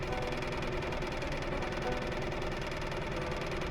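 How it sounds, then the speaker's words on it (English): A Suzuki 6 hp four-stroke outboard motor putters steadily on a flat-bottom boat, a close, constant, fast mechanical chug with no pauses and no voices. "It's a peaceful little noise the boat makes when you're going along like this. A little putter, putter, putter"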